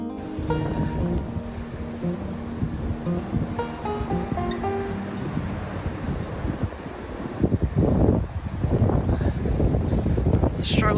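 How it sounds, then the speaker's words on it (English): Strong wind from a snow blizzard buffets the microphone in gusty, rumbling waves, with footsteps or movement and a short breath or voice sound near the end. "I'm trying to keep my head like away from the wind, it's so strong."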